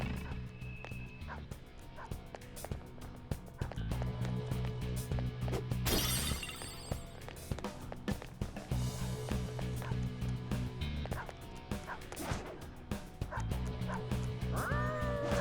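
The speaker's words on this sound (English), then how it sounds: "God bless the person that got into the vocal booth to do that dog sound." A voiced dog in the video game Persona 5 Royal barks, yips and whimpers repeatedly, fairly faint against game music and effects, with a few short sounds of a person speaking.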